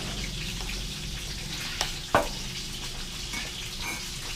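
Steady, fine crackle of food frying in hot oil, with a couple of brief clinks partway through and no voices.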